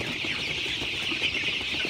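Sonali super hybrid chickens, about thirty days old, cluck in a poultry shed. Soft, overlapping clucks and chatter from many birds run continuously at moderate closeness, with no talking.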